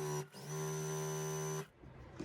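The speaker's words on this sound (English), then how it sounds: "I'm going to go ahead and get this sewn up." Sewing machine stitching quilt strips by chain piecing, a steady loud motorised hum with a high whine running for about a second and a half before stopping abruptly, followed by quieter handling noise.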